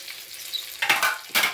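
Onion sizzling in a hot pan, a steady light crackle broken by two louder bursts of stirring or tossing near the end, close and without talk.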